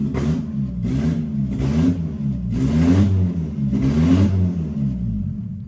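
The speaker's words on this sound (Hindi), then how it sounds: "गाड़ी हमारी फर्स्ट स्टार्ट है और बिल्कुल क्लियर है" Suzuki car fitted with a Honda B18C Type R engine running just after its first start, a steady close mid-pitched engine note rising and falling in repeated revs and surges, alone with no talk.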